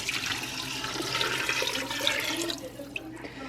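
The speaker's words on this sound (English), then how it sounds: "then I'm gonna pour the broth on top" Chicken broth pours into an Instant Pot over onion and carrot, a steady watery splashing rush that holds for about three seconds, fairly close and loud, then thins out.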